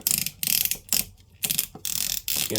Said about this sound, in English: lot of clicky ratchets